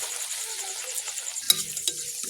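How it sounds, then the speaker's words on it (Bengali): Luchi, a puffed flatbread of mixed whole-wheat and refined flour, frying in hot oil at home, giving a soft, steady sizzle with faint bubbling and one or two small sharp pops, no voices. "লুচি দিচ্ছি তেলে এগুলো হলো লুচি"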